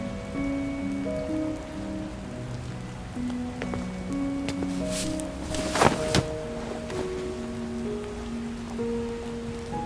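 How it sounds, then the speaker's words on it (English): Rain patters steadily in the video game Love and Deepspace over a soft melodic tune, with a brief louder burst of rain or rustle midway. "when it's raining outside"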